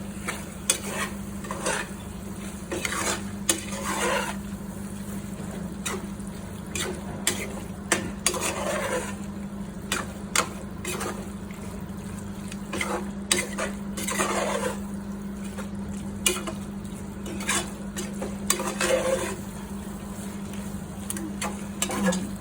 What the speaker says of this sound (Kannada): ಚಿಕನ್ ಹಾಕಿದ ನಂತರ ಚೆನ್ನಾಗಿ ಮಿಕ್ಸ್ ಮಾಡ್ಕೊಳ್ಳಿ